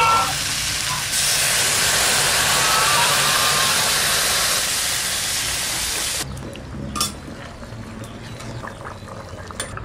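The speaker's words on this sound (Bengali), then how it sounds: "এবার জল দিয়ে দেবো।" Water poured into a hot cooking pan with potatoes, salt already added, bursting into a loud, steady sizzling hiss for about six seconds before dropping to a low bubbling simmer with a few faint clinks.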